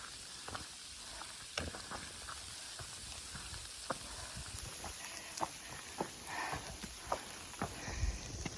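Steady patter of rain on Tinker Cliffs along the Appalachian Trail in Virginia, a dense hiss with scattered sharper drops landing close by, and no one speaking.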